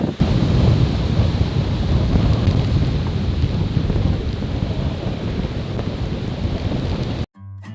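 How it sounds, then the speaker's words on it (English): Outdoor thunderstorm outflow over a northern Wisconsin lake in spring, with strong wind buffeting the microphone and rushing wind, waves and rain noise forming a loud, continuous roar that cuts off abruptly near the end. "Huge storm just to our north, and we're on the outflow of it right now."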